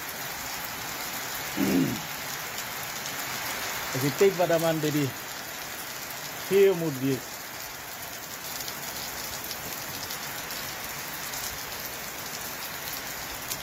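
Steady rain falling in the cold Far South of Namibia around Lüderitz, a continuous broadband hiss throughout with a voice speaking in short bursts over it.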